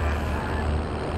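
A truck drives in the Call of Duty Warzone video game, its steady low engine rumble and road noise running loud and close throughout with no break.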